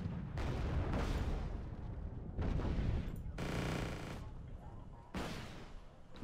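Missiles launched at enemy units in the Wargame: Red Dragon strategy game, several heavy booming launches and blasts in separate bursts with rumbling tails, fairly faint overall.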